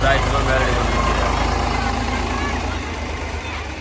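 A tractor engine idles with a steady, low rumble close by throughout, with people talking over it and a slight drop in level near the end, at a temple yagna festival.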